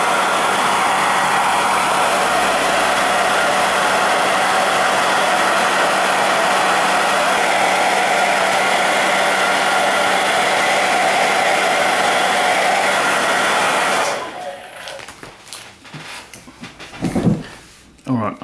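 A heat tool blows steadily and loudly on the back of an iPhone to soften the battery adhesive, a constant rushing whir for about fourteen seconds that cuts off abruptly, followed by faint handling clicks.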